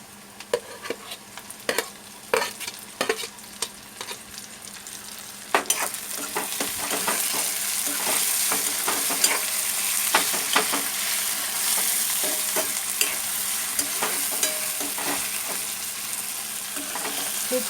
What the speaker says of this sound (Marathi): आता टोमॅटो टाकते.